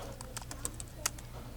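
Soft keystrokes come from a MacBook Pro 15 keyboard after its keyboard and battery were replaced, a quiet run of light, uneven clicks with one slightly sharper tap near the end, over a low background hum.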